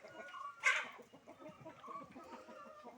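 Chickens cluck nearby, with one sharp, louder squawk early on and softer, scattered clucking continuing throughout.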